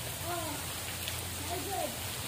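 Steady rain falls outdoors at a cave-rock resort pool, a soft even hiss with faint voices murmuring in the background.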